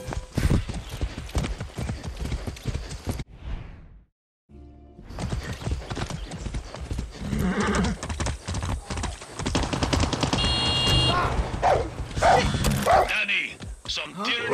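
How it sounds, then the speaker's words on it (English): Rapid hoofbeats of a galloping horse in the video game Far Cry 6 pound along with game sounds, cut by a short silence, while a dog barks and yips in places. "I haven't ridden a horse since basic training."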